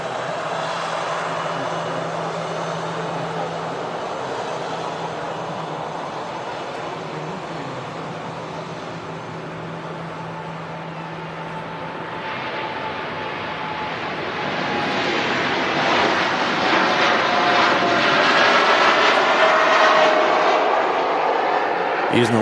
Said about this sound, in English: And the Etihad Dreamliner, the Greenliner, now rolling.